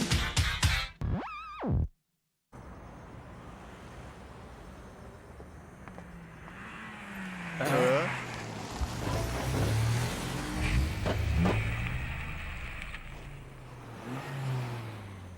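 A modified race car with a sticker on it drives past in an animated street-racing scene. A short revving burst cuts off, then after silence an engine note rises and sweeps past, fading under music and ambient noise.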